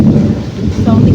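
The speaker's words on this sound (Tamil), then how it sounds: "மழை பெஞ்சாலே நல்ல இடி மின்னல் தான் பெய்யும்." A loud, close crack and rumble of thunder during a heavy rainstorm in a hilly, wooded village, with the rain hissing steadily beneath it.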